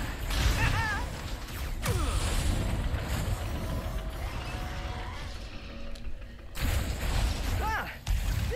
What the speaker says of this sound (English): this lock's controlled by a bolt crank